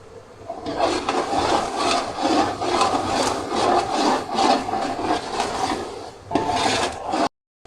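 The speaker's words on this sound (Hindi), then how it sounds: "अच्छी तरह करेंगे भुनाई।" Boiled chicken is stirred and fried in masala for yakhni pulao, with a continuous scraping, rasping sound of a spoon against the pan, loud and close, stopping briefly near the end.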